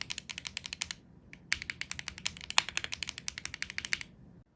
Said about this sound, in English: let you hear the action of the keys up close